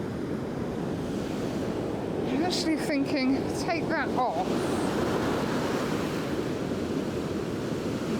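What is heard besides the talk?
ocean waves coming in on the shore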